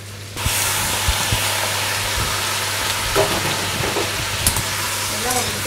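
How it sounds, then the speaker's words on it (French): Meat carcass sizzling in a hot pan as port wine is poured in to deglaze, a loud continuous hiss with scattered spatters and scraping taps, a low hum underneath. "Je vais pouvoir commencer à déglacer au porto."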